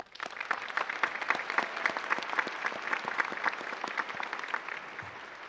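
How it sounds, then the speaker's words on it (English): Audience applause for graduates at a Colorado River Collegiate Academy graduation ceremony, a steady dense wash of many hands clapping that holds evenly throughout and fades slightly at the end. "Let's give them a round of applause."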